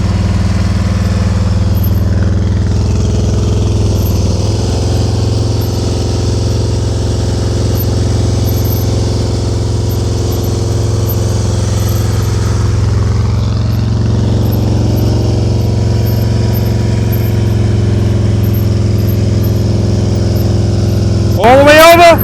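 A motorcycle engine runs steadily at low revs during slow-speed riding skill practice in California, a continuous close hum with a brief rising rev near the end; people talk over it.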